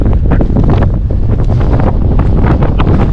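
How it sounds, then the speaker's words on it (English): Strong wind near O'Malley Peak buffets the microphone in loud, continuous rumbling gusts, with a low roar that never lets up. "That's how windy it is."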